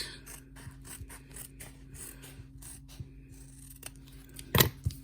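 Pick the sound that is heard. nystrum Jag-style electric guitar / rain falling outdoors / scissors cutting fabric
scissors cutting fabric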